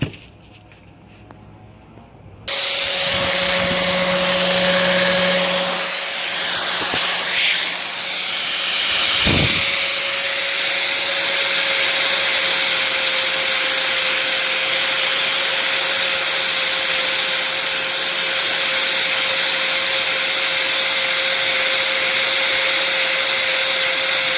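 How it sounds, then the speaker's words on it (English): An angle grinder grinds a stiff carbon fiber bicycle seat stay, starting abruptly after near silence and holding a loud, continuous abrasive whine with a sustained motor tone. "So we will grind this using the angle grinder."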